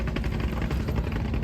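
Large wooden river boat's engine idling at a ghat on the river at Aricha, Bangladesh, a loud, continuous low throbbing rumble heard close by without talk.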